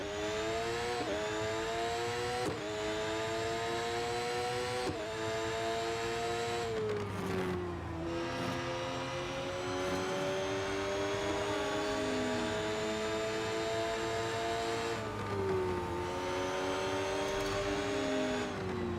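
A Formula-style race car in the Real Racing 3 mobile game, a loud continuous engine whine rising and falling through repeated gear shifts, with lift-off dips before corners, alone with no talk.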